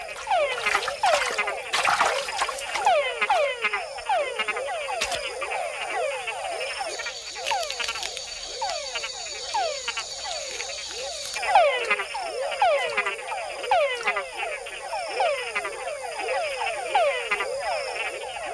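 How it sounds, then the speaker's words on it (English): Male frogs in Panama give chuck calls, a dense chorus of rapid repeated croaks that overlap continuously and sound close and loud. Other calls join further back. "And with other bigger frogs nearby, a call can be a fatal attraction."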